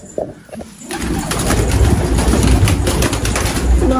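Racing pigeons in a Turkish loft give low coos under a dense wash of wing flapping and rustling that swells after a brief quieter opening and stays loud and close throughout.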